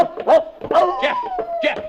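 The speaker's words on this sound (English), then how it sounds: "Jeff, you fool dog, come back here." A dog barks in a quick series of four or five sharp, close yaps with a slightly whimpering tone and short gaps between them.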